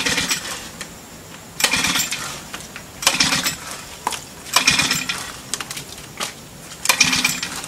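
A lawn mower's starter cord is yanked repeatedly while the engine fails to catch, giving five loud rattling pull bursts spaced about every one and a half seconds, close by with no voices.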